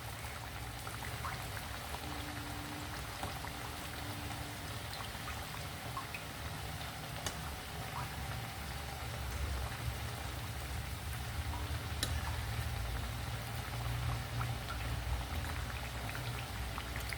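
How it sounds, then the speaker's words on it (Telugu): Raw banana fritters (aratikaya vadalu) frying in hot oil, a soft, steady crackle and sizzle of bubbling oil with faint scattered pops, heard alone and fairly quiet throughout. "ఇవన్నీ వేగుతున్నాయండి."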